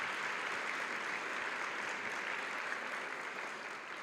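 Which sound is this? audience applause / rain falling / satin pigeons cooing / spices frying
audience applause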